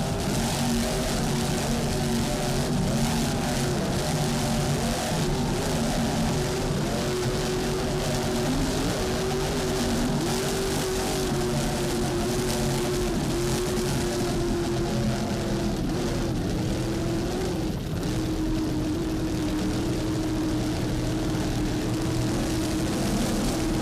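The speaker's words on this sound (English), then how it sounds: "Let's listen to those engines." Mercury-powered offshore racing powerboats from the 2002 Nick Carter team roar continuously, a loud sustained drone of engines with shifting pitch as the boats run side by side, with no talk over it.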